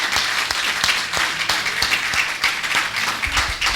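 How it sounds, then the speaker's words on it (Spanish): Church congregation applauding loudly, a dense, steady wash of many hands clapping close by with sharp individual claps standing out, with no talk over it. "Y si el aplauso es para el Señor y para el Espíritu de Cristo,"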